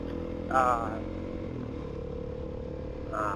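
A motorcycle engine with its exhaust baffle removed gives a low, steady rumble under a voice, with a brief louder surge near the start and another at the end.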